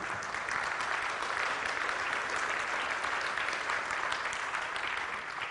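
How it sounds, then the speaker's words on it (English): Audience applause during a talk on faith and globalisation, a dense, even, sustained wash of many hands clapping, moderately distant and steady throughout. "you can go ahead and clap"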